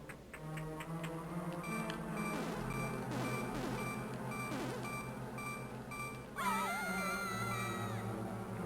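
Repeated electronic low-health warning beeps from the Zelda game A Link to the Past, steady and insistent over the game's music, with a brighter jingle near the end.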